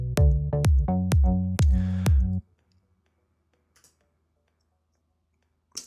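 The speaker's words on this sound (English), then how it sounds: "it makes the kick drum punch through the mix better" Five punchy, booming kick-drum hits with tonal body, evenly spaced, then the mix cuts out to near silence.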